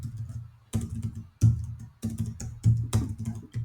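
Quick bursts of keystrokes on a computer keyboard, close and crisp, arriving in four or five short clusters of clicks with brief pauses between.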